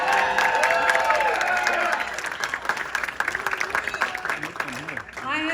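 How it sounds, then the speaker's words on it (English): A political speech crowd applauds and cheers at a primary-win acceptance, steady clapping under a speaker's voice, which carries on through the ovation. "That's an applause line."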